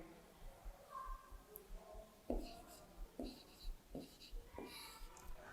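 Numbers being written out on the page for a Class 3 maths subtraction lesson: quiet, close scratchy strokes and taps come in short bursts, with faint low speech underneath.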